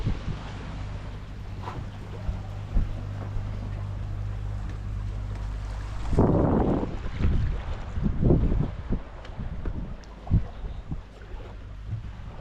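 A large sailboat carrying its mainsail and a Code Zero head sail moves along under sail near Annapolis, with steady wind rushing across the microphone, a low droning hum early on, and rougher gusts and water rumble later. No one speaks.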